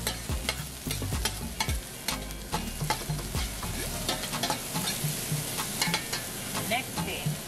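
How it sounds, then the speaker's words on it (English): Seasoning stirred and sautéed in a pan for shrimp fried rice, with a steady close sizzle and frequent quick scraping and clinking strokes of a spoon against the pan, with no speech. "I'm going to put my seasoning in. Everything. Get it a little tiny bit sauteed."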